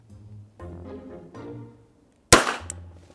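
A single sharp gunshot cracks out loudly and abruptly during target shooting at a mannequin, with quiet voices talking before it and resuming right after.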